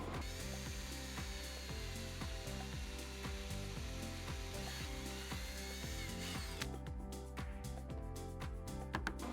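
An electric drill running a 13/64 bit into a Stihl chainsaw, whirring steadily with a rhythmic pulsing as it bites through the metal, then spinning down into a few clicks near the end.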